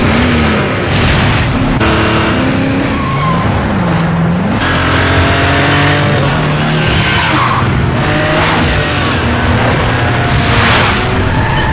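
Mercedes-Benz C204 C-Class coupes rev their engines and squeal their tires through repeated skids and slides on a test run, loud and close, with rising and falling engine pitch and no talking.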